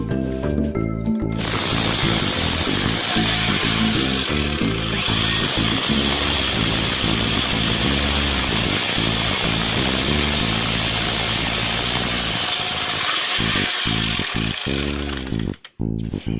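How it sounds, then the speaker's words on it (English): A loud power drill drones continuously, drilling holes near a wet footing, close and harsh, with a pulsing motor rhythm before cutting out abruptly near the end. "You can see that we're currently drilling holes down here at the bottom where the footing is"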